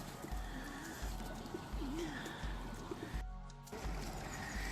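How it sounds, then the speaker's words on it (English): Soft pigeon coos drift over steady outdoor background noise near a pond with geese, faint and somewhat distant, a few short calls across the stretch. "Look at that, and some geese and some pigeons."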